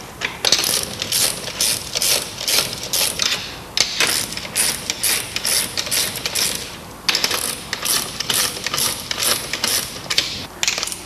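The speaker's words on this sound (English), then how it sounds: "rotating from bolt to bolt so that we bring the coupling together evenly" Steel bolts on a PLP stainless splice closure coupling being tightened in turn with a ratchet wrench, giving rapid clicking bursts that stop and restart as the tool moves from bolt to bolt, close and fairly loud.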